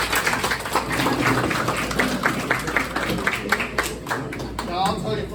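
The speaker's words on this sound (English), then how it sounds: "Give them a round of applause." A breakfast audience applauds for active NYPD detectives at a Lions Club fundraiser, with dense, steady clapping of many hands throughout and a voice speaking over it.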